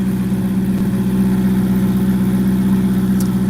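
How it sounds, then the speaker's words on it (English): A Ferrari 488 GTB's twin-turbo engine holds a loud, steady, close drone with a strong low hum and a constant whirring texture, unbroken and without talk. "You can really hear the turbos."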